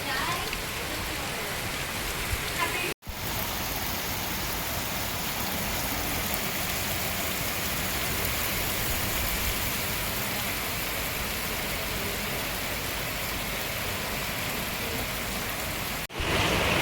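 Heavy rain falls around a rural fish farm, a loud, unbroken wash of drops on surfaces that lasts the whole time, with two brief cuts in the sound.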